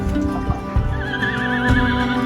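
A 1,650-pound horse whinnies loudly and close by, a long quavering neigh over low stable noise and a few hoof thuds.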